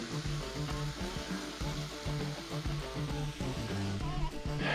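Garlic mushrooms sizzle in a pan as their sauce reduces for champiñones al ajillo, a steady frying hiss running beneath loud, rhythmic music for the whole stretch.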